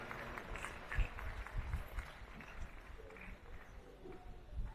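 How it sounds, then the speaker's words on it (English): Scattered applause from an audience at an annual registry lecture, faint and distant-sounding, with uneven clapping that swells and fades over a few seconds. "We should also clap for the Vice Chancellor"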